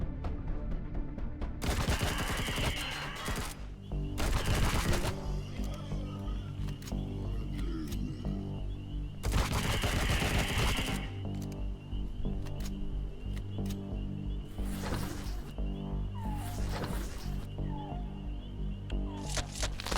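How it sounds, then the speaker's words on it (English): A laser weapon fires in the space survival game Empyrion, in loud, sharp bursts spread across a steady background hum, with several clusters of shots separated by pauses. "Stop trying to aim at me with the laser weapon"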